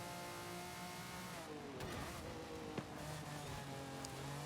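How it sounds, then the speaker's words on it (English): A Lamborghini V12 engine revs in Forza Horizon 5, a steady loud drone with rising and falling pitch and a brief sharp blip near the end, heard alone without voices. "Lamborghini V12 sound like they should."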